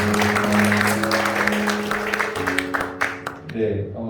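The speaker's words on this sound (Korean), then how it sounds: "박수로 환영하겠습니다." A church congregation applauds in welcome, steady clapping spread across the room beneath a voice speaking over a microphone, with the applause thinning toward the end.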